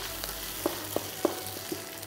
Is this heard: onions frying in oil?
yes